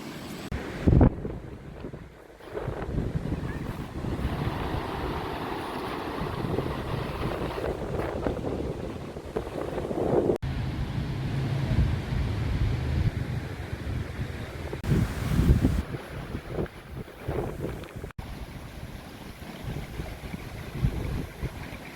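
Strong wind in a forest buffets the microphone in loud, rumbling gusts that rise and fall, with a rushing, watery roar underneath.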